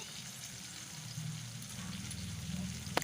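Pumpkin and potato pieces frying in oil while being stirred, a steady soft sizzle with faint scraping and a small sharp knock near the end.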